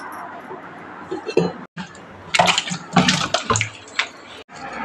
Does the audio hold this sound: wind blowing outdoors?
no